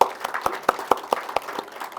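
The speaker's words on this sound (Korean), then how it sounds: "박수 한번 치셨으면 좋겠습니다." Brief applause from a modest audience at a Korean university results-sharing event: sparse, distinct claps in a loose, uneven rhythm, close and fairly loud, fading slightly after two seconds.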